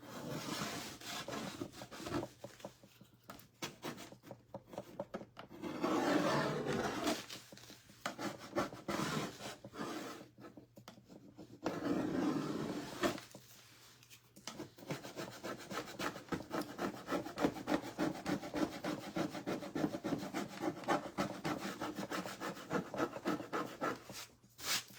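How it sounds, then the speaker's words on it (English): A wooden banjo part scraped by hand, with long stretches of steady rasping strokes in a repetitive back-and-forth rhythm, close and fairly loud, broken by a few brief pauses. "You gotta scrape, scrape, scrape."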